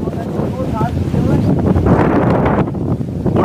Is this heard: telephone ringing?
no